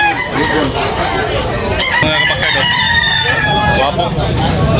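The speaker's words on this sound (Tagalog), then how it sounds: "Ibon." Birds calling and clucking in a busy, noisy bird market in Tabunok, Talisay, Cebu, with overlapping chirps and crow-like calls, and people talking in the background.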